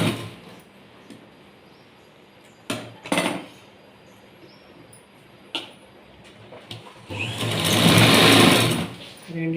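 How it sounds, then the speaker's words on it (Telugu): Sewing machine stitching blouse fabric, running in a faint steady hum with a few sharp clicks and knocks, then a louder, harsher burst of stitching near the end. "ఇలా జాయింట్ వేసుకున్న తర్వాత దీని మీద అనిపై స్టిచ్ వేసుకున్నాము"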